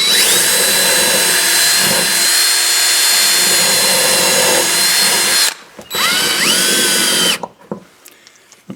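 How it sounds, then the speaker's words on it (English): A power drill bores into a small block while a Port-a-Band is being mounted for knife making: a loud, sustained whine for about five seconds, a short second burst, then quiet. "I think what I'll do first is just drill this little block."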